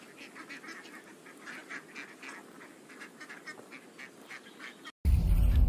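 Ducks in a video game honk and quack in repeated bursts over a low background rumble, moderately loud, ending with a sudden loud burst of noise.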